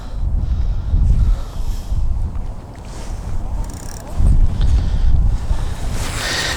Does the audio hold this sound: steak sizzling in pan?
no